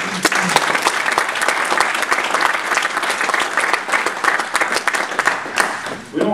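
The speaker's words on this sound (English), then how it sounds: "how about another round of applause for everybody who came to the show" Sustained audience applause fills a convention hall at the Classic Gaming Expo 2007 founders session, a dense, steady wash of many hands clapping at once without a break.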